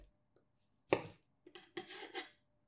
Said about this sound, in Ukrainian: Солоні огірки також наріжте соломкою.